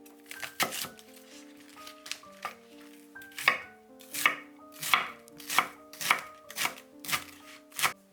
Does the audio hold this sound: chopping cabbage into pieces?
yes